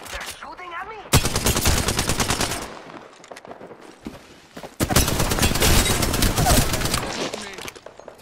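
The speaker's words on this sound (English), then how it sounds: "They're shooting at me?" Rapid automatic gunfire in a shooter video game, loud sustained bursts of rattling shots separated by a brief lull, with faint game sounds in between.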